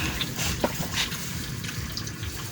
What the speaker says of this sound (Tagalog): Talagyan natin ng kunting tubig, ah.